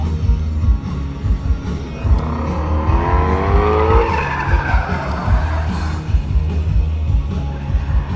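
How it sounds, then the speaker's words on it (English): Cars drifting at the SEMA 2016 show: loud, sustained tire squeal that rises and wavers over a constant engine roar. "They do a bunch of drifting also, just like they're doing here right now."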